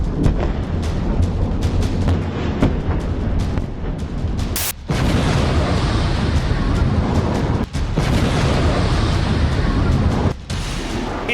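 Cluster bomb blasts strike in rapid succession, a loud, continuous barrage of booms and rumbling detonations with sharp cracks and brief gaps between volleys.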